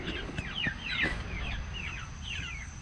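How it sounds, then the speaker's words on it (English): Chickens chirp and cluck nervously inside their coop in a series of short, bright calls, fairly close, over a steady low background hum; no talking. "our chickens are in their coop"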